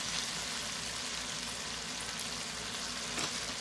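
All-purpose flour frying in chicken white sauce in a pan gives a steady, dense sizzle with fine crackle throughout, close and continuous with no voices.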